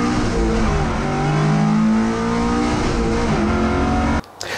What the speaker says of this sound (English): I built a set of stainless 180 degree headers for the build, and it gives it kind of a unique sound.